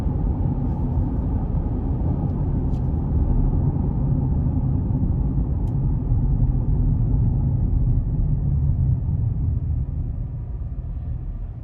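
Steady cabin road rumble and light wind noise from a 2021 GMC Canyon Elevation with the 3.6 engine and 2WD, driving smoothly; a constant low drone with little engine sound and a couple of faint ticks, no talking.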